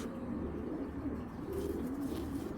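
Giribaz pigeons cooing at a farm, a couple of low soft coos rolling close by over a quiet background hum.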